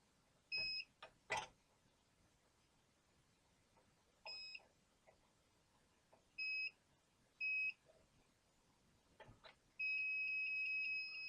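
Several short electronic beeps from a multimeter continuity test on broken door-jamb wiring of a 1981 GMC C10, at irregular intervals among faint clicks and handling noise, ending in one long continuous beep.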